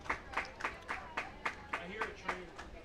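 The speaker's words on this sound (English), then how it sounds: "Here comes the crowd behind Rosado on a 1-2 count coming up" Rhythmic clapping from a baseball crowd at a Kitchener Panthers at Barrie Baycats game, about ten even claps in a steady beat, distant and fairly faint, with a brief tonal voice partway through.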